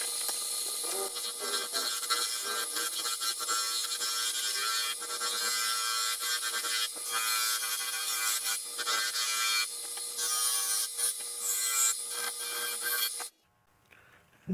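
A skew chisel cuts a segmented cherry and spalted maple box spinning on a wood lathe, giving a continuous, close, raspy scraping hiss with small surges that stops abruptly near the end.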